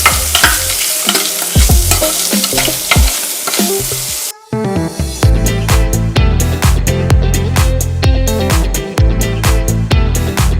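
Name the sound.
frying anchovies and nuts in spice paste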